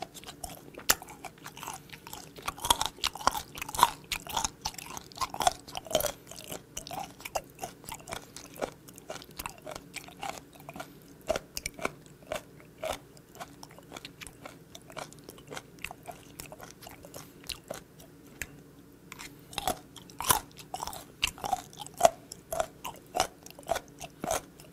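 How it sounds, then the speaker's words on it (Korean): Close, steady chewing of fermented and unfermented skate (hongeo) from Heuksando, with wet crunchy bites and mastication repeating rhythmically for a long stretch, with no talking. "그래도 최대한 이 영상에 중독성 있는 이 씹는 소리를 많이 넣어보도록"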